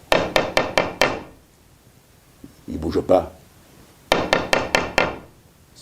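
Knocking on a wooden door in a Provençal Christmas tale comes in two bursts of five rapid, sharp raps, close and loud, with a storyteller's voice speaking in the gap between them.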